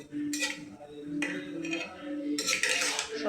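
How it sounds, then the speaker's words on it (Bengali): A spoon stirring red lentils and potatoes in a cooking pot, producing a few scraping, clinking strokes against the metal in separate bursts, quiet and close. "ভালো করে নাড়া দিয়ে দিলাম।"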